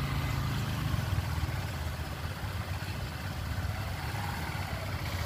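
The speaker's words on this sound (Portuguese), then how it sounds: "A moto saiu, a outra vai puxar e ela tem que puxar e parar de novo aqui na frente" A motorcycle idles steadily at a driving-test ramp in the rain, a low continuous engine rumble blended with the hiss of rainfall, with no talking.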